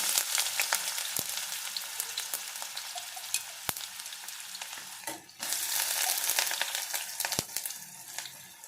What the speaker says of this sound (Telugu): నూనె వేడెక్కిన తర్వాత ఒక ఉల్లిపాయ,